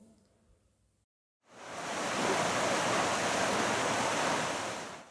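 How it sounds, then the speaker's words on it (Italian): River water rushing past, a loud, dense, steady roar that swells in after a short quiet opening and holds evenly. "L'acqua del fiume"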